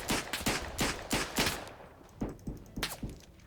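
Rifle gunfire in the trench-warfare video game Verdun during close-quarters fighting: a quick series of about eight loud, sharp shots in irregular bursts, a short pause, then a few more, with no talking.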